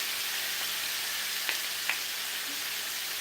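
Onions frying in olive oil, a close steady sizzle with a couple of faint knocks as the pan is stirred.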